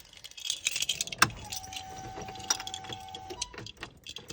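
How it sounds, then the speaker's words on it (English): Car keys jangle and rattle close by just before they go into a car's ignition, with a sharp metallic clink and scattered light rattling, followed by a faint steady electronic tone. "Get the key in the ignition."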